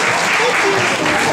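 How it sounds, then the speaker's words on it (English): Loud, dense applause from a large audience, continuous clapping throughout the brief moment. "let's give a big round of applause for"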